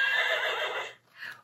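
A mare with her foal on a farm gives a loud, close whinny that rolls on for about a second, breaks off, then returns as a shorter, softer neigh.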